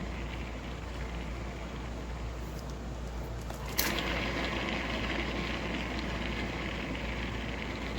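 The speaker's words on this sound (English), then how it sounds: "I forgot to turn the air conditioner off, so you guys probably can't even hear me." An air conditioner hums and hisses steadily throughout as a constant broadband drone with a low tone underneath, with a brief click midway and no talking.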